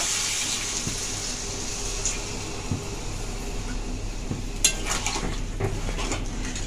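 Water poured into a pan of fried spice paste for a raw jackfruit curry, a steady close hiss with a few light clinks of utensils against the pan.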